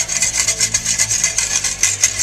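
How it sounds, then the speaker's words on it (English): A whisk scrapes rhythmically across the bottom of a pan deglazed with about a cup of wine, a close, steady back-and-forth rasping with no voices. "you want to use a whisk to get all the nice little bits off the bottom of the pan"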